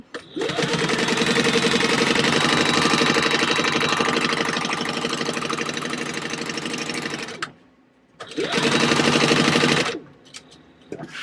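A sewing machine stitches fabric at a long stitch length in a loud, fast, even run, pauses briefly and then starts a second shorter burst, with no talking.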